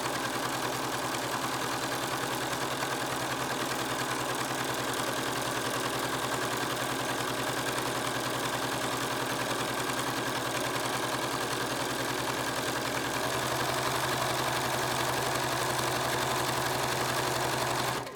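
A Bernina sewing machine with a free-motion embroidery foot stitches over sinamay, a steady mechanical hum with a rapid needle chatter running continuously and close, without pause or talk.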